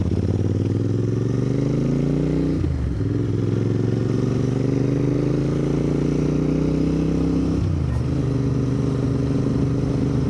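A Royal Enfield Interceptor 650 motorcycle engine drones steadily while riding Yorkshire back lanes, its pitch climbing, then dropping twice as gears shift, loud and close throughout.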